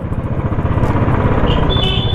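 Motorcycle ridden through a crowded back street in Ayodhya, its engine putting close and loud, with a brief high horn-like tone near the end.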